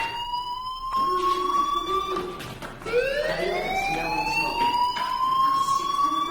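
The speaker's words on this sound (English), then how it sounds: "do you hear that fire alarm?" A fire alarm wails in a rising and falling electronic siren tone, loud and sustained, with a brief dip before the pitch sweeps up again and holds.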